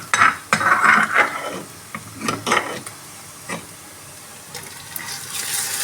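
Onion and a prepared paste stirred and fried in a pan for a Punjabi chana sabji, with spoon scrapes and clinks in short bursts over a soft sizzle, then quieter frying that swells again at the end.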